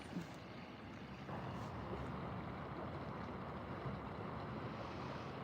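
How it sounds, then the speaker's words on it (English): Rustling water runs as a steady, soft broadband wash outdoors on a mild, sunny morning, continuous and alone, with a faint low rumble and no voices. "Listening to the sound of the rustling water"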